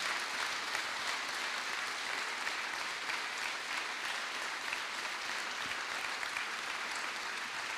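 An audience at a human rights book prize ceremony in Nancy claps loudly and continuously, a dense even wash of applause with no voices over it.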